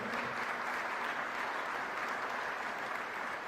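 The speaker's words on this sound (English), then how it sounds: "Let's give them all a round of applause." Sustained applause from an audience at a diplomatic business event, dense steady clapping at even volume throughout, with no voices over it.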